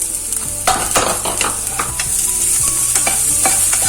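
Onions, chilli, ginger and curry leaves sauté in a pan for samosa filling, a steady loud sizzle broken by repeated clattering stirs of a spoon against the pan, no voices.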